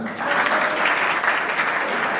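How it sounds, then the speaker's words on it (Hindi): A brief, dense burst of crowd clapping fills a career guidance seminar hall as a name is announced, steady and loud from start to end. "ताली दो।"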